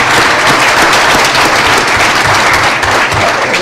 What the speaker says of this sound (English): can you help me in giving them a wonderful round of applause?